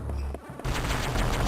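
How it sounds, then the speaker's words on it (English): Explosion in Metroid Fusion: after a low humming tone, a sudden broadband blast erupts and continues as a dense, rattling roar of repeated bursts, loud and close with no talk. "Oh no, there's an explosion."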